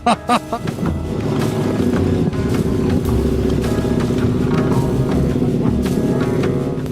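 Motorcycle on a dirt track in Corsica, a few sharp bursts at the start, then a steady, loud engine drone close by with wind noise and no talk.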